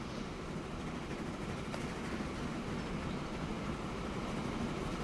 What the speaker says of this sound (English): it's the next log train